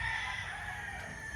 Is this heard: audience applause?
no